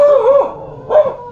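A dog gives two loud, close bark-howls, a long drawn cry followed by a shorter one after a brief pause.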